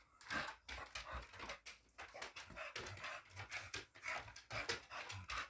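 A dog pants rapidly and steadily at close range, quick rhythmic breaths repeating throughout, with occasional small whimpering tones and no talking.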